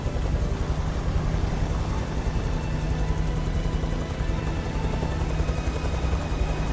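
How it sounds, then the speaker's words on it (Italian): A helicopter in the video game Beyond: Two Souls drones steadily, its rotor and engine forming a dense, continuous roar that stays loud and unchanging throughout, with no talk. "Lo sapevo io che arrivava l'elicottero infame."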